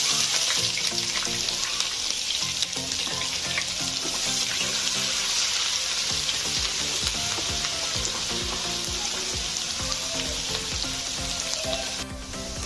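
Dried red chilli and panch phoron sizzle in hot oil in a pan while cooking vegetarian ghugni, a steady dense crackling fry with occasional stirring scrapes, close and continuous without talk.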